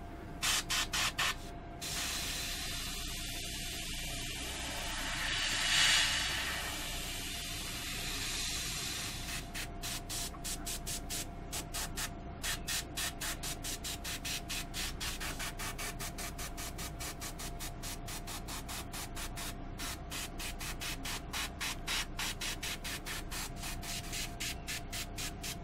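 An airbrush sprays paint onto a bubble-shaped rim in a steady close hiss that runs the whole time, sputtering in quick rapid pulses through much of it.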